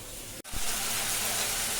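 Finely chopped onion fries with cumin, coriander, turmeric and chili powder in a pan, giving a steady, close hissing sizzle that breaks off for an instant before resuming.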